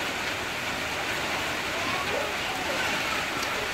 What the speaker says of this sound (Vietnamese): Mưa quá trời mưa.